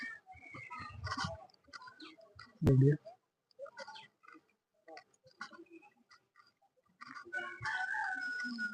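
Chickens and a rooster roam a forest temple, with a loud, close clucking or crowing burst standing out briefly among scattered bird calls and people talking nearby.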